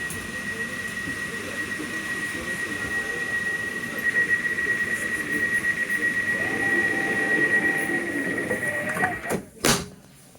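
Elizabeth line train running between Shenfield and Paddington near Manor Park in the rain, a steady low rumble of the moving carriage with a faint tonal whine and a few clunks toward the end, no talking.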